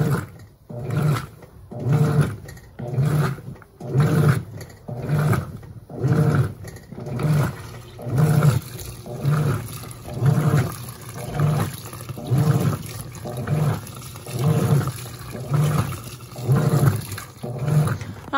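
An Electrolux Blue Touch 12 kg top-loading washing machine agitates bath towels in hot water, its paddles churning in a steady rhythmic slosh and whoosh that repeats roughly every second, loud and close with no talking.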